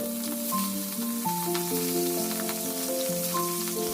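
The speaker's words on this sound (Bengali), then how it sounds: "নুন হলুদ মাখানো চিংড়ি মাছগুলো ভাজার জন্য একটা একটা করে আমি তেলের মধ্যে দিয়ে দেব" Turmeric-and-salt-coated shrimp fry in oil over a low gas flame, giving a soft, even sizzle that runs beneath gentle instrumental music.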